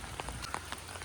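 Steady rain patters on a surface, with scattered individual drops tapping nearby during a rainy-season trip through Idukki villages; no voices.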